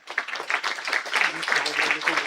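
Audience applause for meritorious students at a school St. George's Day celebration and annual prize distribution ceremony, a steady dense patter of many hands clapping throughout, fairly close, with some voices mixed in.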